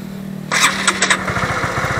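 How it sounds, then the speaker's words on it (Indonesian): A manual-clutch motorcycle engine starts with a sudden loud catch, then settles into a steady, close idle with a rapid, even putter. "Pertama, kalian hidupin mesin."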